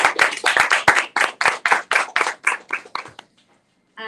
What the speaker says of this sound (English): So I think everybody in the room and online should just give yourself a clap.